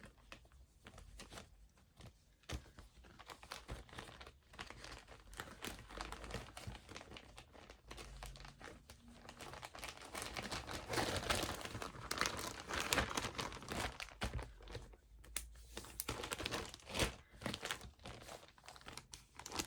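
Soft, continuous crinkling as a piece of material is folded back up, close by and quiet, with no talk over it.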